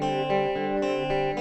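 Electric guitar run through a Nembrini doubler pedal with its pitch control turned all the way up, giving a detuned, chorus-like shimmer to sustained chords, steady and close with no talk.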